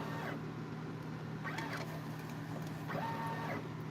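Embroidery machine stitching out a design, a steady mechanical hum with repeated brief whirring bursts of the needle drive.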